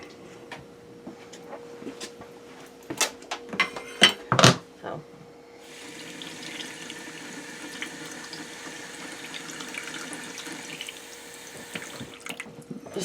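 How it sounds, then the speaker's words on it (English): Tap water runs at a sink into a rock tumbler barrel full of rocks: a few clunks and knocks of the barrel first, then a steady rushing fill for several seconds, close up and with no talk. "So then you put water in there, right up to where the rocks are."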